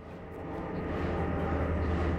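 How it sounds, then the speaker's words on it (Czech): A steady, low rumbling drone of a helicopter flying in the Mirror's Edge city, continuous and fairly even, gradually swelling slightly louder without other sounds on top. "Vrtulník."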